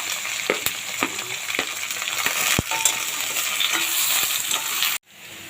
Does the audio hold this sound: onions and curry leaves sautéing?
yes